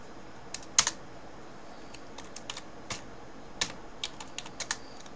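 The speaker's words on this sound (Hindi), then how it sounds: "टाइप करते हैं" Keys tap on a computer keyboard in short, irregular bursts of light clicks, close by and fairly quiet, with brief pauses between strokes and no voice over them.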